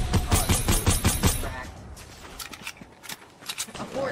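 Fortnite gunfire crackles in a quick, rapid string of close shots, then thins to scattered sporadic pops over the rest of the moment, with voices faintly present.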